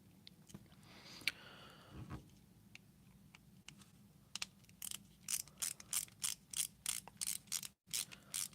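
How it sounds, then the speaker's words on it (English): Screws on a Leatherman Arc multitool being cinched down with a secondary screwdriver: a run of quick, regular clicking bursts close by, after a few scattered taps and handling noises. "grab our secondary screwdriver and start cinching these things up"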